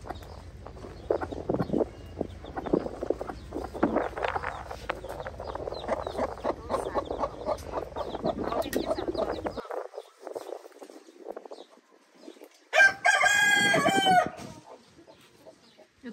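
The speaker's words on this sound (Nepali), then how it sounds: "यो कुखुरा मान्छे मान्छेको चाल सुन्नु भने झन् कुखुरा बासेर बासेर बासेर गर्छौ" Chickens cluck repeatedly in a backyard coop, busy overlapping calls that give way to a brief quiet stretch before a loud rooster crow cuts in near the end, with nobody talking.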